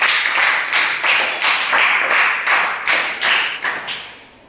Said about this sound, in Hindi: विज्ञान की कक्षा की शुरुआत करें जोरदार तालियों के साथ।